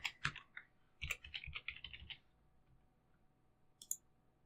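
Password being typed on a computer keyboard while a new user account is set up: a burst of quick, close key clicks over about two seconds, then quiet, then one last click.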